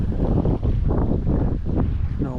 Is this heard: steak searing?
no